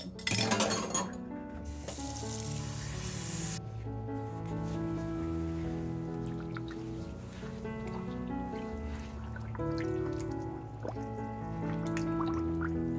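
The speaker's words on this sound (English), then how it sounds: "And then I'll add room temperature water so that it's not real hot when I put the silk in there" Room temperature water poured into a container of dissolved alum for eco-printing silk: a steady splashing, filling pour that runs continuously and close by, with a brief noisy burst at the start.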